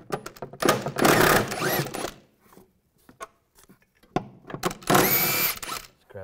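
Two bursts from a power tool with a 16mm socket back out the rear shock absorber bolts on a 1998-2010 Volkswagen Beetle, a whirring spin-up each time with clicks and short metallic taps between.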